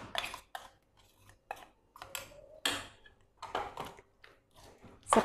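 Spoon scraping and clinking in a pot as a prepared paste is worked into mutton pieces for a Mughlai mutton dish, a run of short, close, irregular metallic scrapes and taps with brief pauses.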